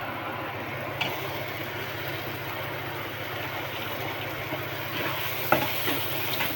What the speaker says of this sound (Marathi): कांदा टोमॅटो चांगलं भाजून देऊया.